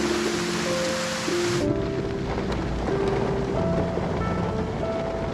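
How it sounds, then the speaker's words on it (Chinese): Steady rain falls outside, a dense continuous hiss with low rumbling underneath, heard from inside a car, with faint tonal sounds drifting over it. "外面还在下雨呢"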